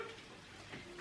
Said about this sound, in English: I'm frying something